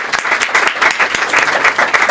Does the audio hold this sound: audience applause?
yes